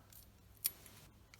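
A single sharp snip of cutters through the ignitor wire on a Goodman furnace, close and crisp against near silence, with a faint metallic jingle after it.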